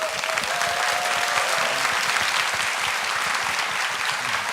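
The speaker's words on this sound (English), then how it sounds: "let's give a big applause, a big hand." Sustained audience applause for Andrew and Ian at the close of an AI talk event with Andrew Ng, a steady dense clapping wash that stays loud and even throughout with no voices over it.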